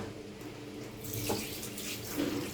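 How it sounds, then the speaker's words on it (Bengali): Tap water runs steadily into a sink, with splashing as pigeon meat is rinsed under the stream midway through. "এখন আমি কবুতরের মাংসগুলো ভালো করে ধুয়ে নেব"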